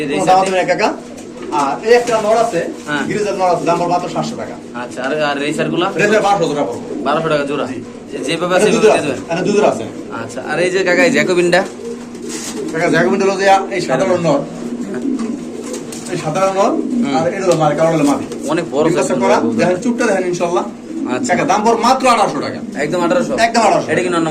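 Pigeons cooing in a seller's collection at a pigeon market, soft repeated coos running continuously beneath someone talking throughout.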